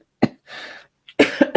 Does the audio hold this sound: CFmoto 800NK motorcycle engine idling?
no